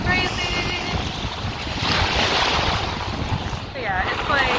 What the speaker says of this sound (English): it's very windy and I can't hold my head and film